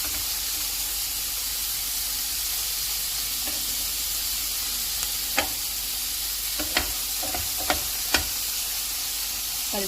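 Turkish kebabs sizzling in an oiled grill pan, a steady close frying hiss with a few soft clinks and taps of utensils toward the end, no talking.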